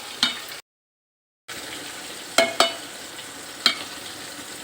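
Sizzling oil crackles in a pan as fried grouper is stirred, with a few sharp scraping clinks and a brief silent gap partway through.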